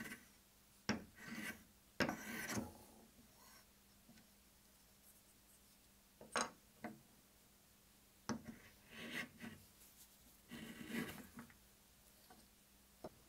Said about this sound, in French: elle se prend un coup de rabot